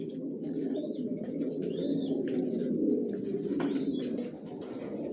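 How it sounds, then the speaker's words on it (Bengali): Racing pigeons coo in a home-built loft, soft low rolling coos layered continuously up close with a few brief higher chirps, no talk. "ছাদেও কবুতর রাখা আছে"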